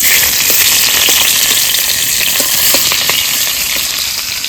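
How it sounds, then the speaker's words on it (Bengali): Hilsa fish heads frying in hot mustard oil, a steady loud sizzle with scattered pops and crackles throughout, close up and alone. "সর্ষের তেল দিয়ে দেবো মাছের মাথা তিনটে ভেজে নেব"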